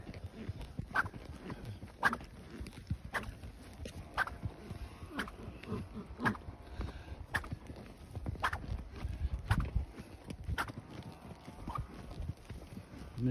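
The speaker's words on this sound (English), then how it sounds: "There's a horse coming, so I gotta make sure I'm not scaring them." A horse walks nearby on an outdoor path during a horse archery training session, hooves clip-clopping in a steady, faint rhythm under low background noise and occasional quiet voices.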